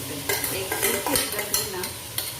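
A scrambled-egg-style bhuji fries in Amul garlic butter while a utensil stirs it briskly, giving repeated scraping strokes over a continuous close sizzle.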